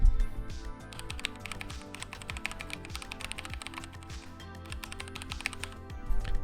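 Steady, fast typing on a wireless mechanical keyboard, crisp clacky keystrokes in continuous rhythm, close and fairly loud, with no voices.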